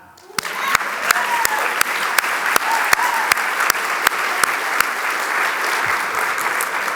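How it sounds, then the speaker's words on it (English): An audience at a college opening session claps for the inaugural dean of UCLA's Herb Alpert School of Music, steady applause from many hands with a few sharp, distinct claps standing out, continuing for several seconds. "Let's clap."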